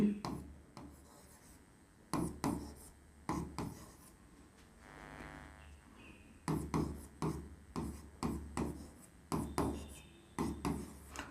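Writing on a board during a chemistry class, a quiet series of short scratchy strokes arriving in irregular bursts with brief pauses between.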